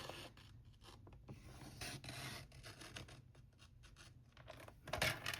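A paper trimmer blade slides through card stock, making a close, scratchy rasping drag in several short strokes with brief pauses, ending in a louder scrape.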